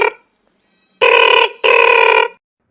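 A cartoon telephone rings twice in loud, even bursts with a short gap between them, following a brief faint tone at the start, with no talk over it.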